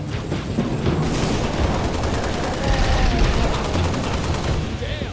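Gunfire in Halo rattles in fast bursts and scattered shots, dense and loud throughout, mixed with booming impacts and some talking.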